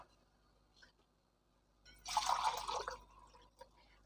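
Water is poured from a measure into a pot of rice with fenugreek leaves and vegetables for biryani, making a short, close splashing pour of about a second in an otherwise quiet kitchen.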